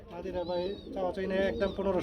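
Bombay shirting pigeons coo in low, throaty, rolling phrases, close and continuous over a short stretch, amid background murmur at a pigeon market.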